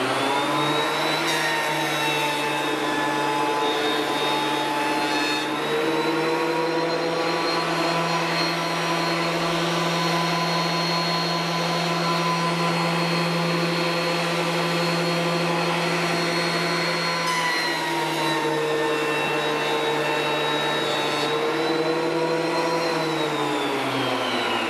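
A thickness planer runs steadily for the whole stretch, a loud, high whining motor drone with cutter noise that dips briefly twice in pitch.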